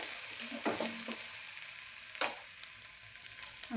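Eggplant curry masala roasting in oil until the oil separates: a soft, continuous sizzle with a few stirring scrapes and a brief sharp clink partway through.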